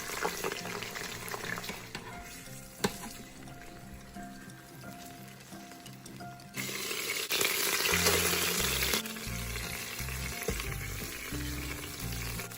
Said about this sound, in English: Now I'm going to fry these in batches. I just want to brown them on each side.